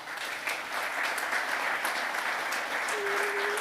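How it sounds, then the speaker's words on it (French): Short burst of steady audience applause at a corporate panel discussion, moderately loud and continuous for a few seconds, with no speech over it. "Je vous propose qu'on les applaudisse."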